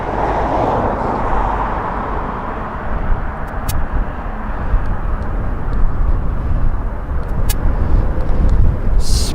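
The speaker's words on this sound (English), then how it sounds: "In other words, the DHL aircraft." DHL cargo aircraft at an airport, its loud steady engine roar rumbling throughout with no talking, rising slightly toward the end.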